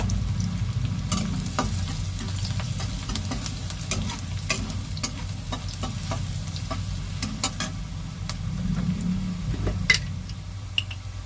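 Onions frying in a pan for a Bengali bhetki fish dish, giving a steady close sizzle broken by frequent scraping and tapping stirring strokes, with no talk.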